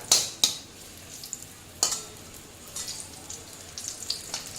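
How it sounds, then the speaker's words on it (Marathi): Soft sizzling from a pan as dates are sautéed in ghee and stirred, punctuated by a few sharp metallic scrapes of a spoon, close by with no talking. "आता आपण दोन्ही खजूर पण यात घालूया आणि परतून घेऊया."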